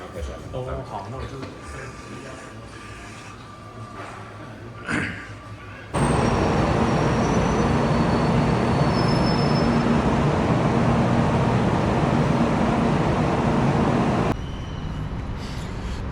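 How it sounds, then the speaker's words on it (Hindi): A metro train in Taiwan roars past for about eight seconds in a loud, steady rushing rumble, with quieter street ambience before and after. "अभी मेट्रो से उतरा हूँ"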